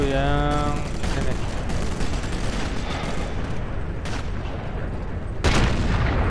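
Gunfire in Sniper Elite, set in a war between Russians and Germans: loud booming rifle shots, one at the start and sharp cracks later, with dense battle noise throughout and a voice speaking briefly at the opening.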